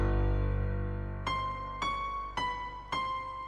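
Among Us theme melody played on a Nexus piano synth patch, four struck notes in slow even rhythm, each ringing out and decaying, close and clean with no talking.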